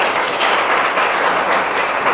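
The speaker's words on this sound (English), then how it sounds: "Just give them a round of applause" Audience applause at a Lawrence Cultural Council grant awards gathering, a loud, dense wash of clapping from a room full of people, sustained evenly throughout without speech.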